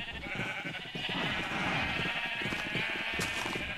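Sheep in the video game Minecraft bleat repeatedly, several overlapping calls at moderate volume with no speech.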